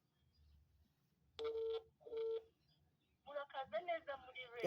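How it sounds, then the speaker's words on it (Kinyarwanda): Two short, steady telephone keypad tones sound while dialing a number during a call, with speech following right after. "Murumva ko hano wenda ndimo guhamagara nomero runaka"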